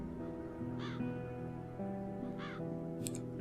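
Crows caw twice in a fantasy role-playing game, The Dark Eye, each call a short harsh burst standing out against a steady droning musical score, with a faint higher chirp near the end.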